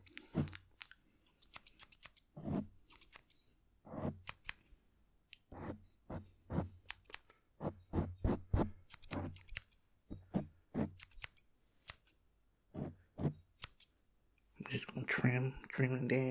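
Scissors snip hair in a barbershop haircut, with crisp, close, intimate cuts coming in irregular bursts and pauses. A louder brushing rustle follows at the end.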